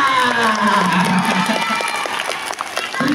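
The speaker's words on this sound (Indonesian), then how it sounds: "kasih tepuk tangan buat Bu Ika." Audience applause at a school gathering as a teacher is invited to recite a pantun, with clapping blended into cheering, shouting and overlapping voices throughout.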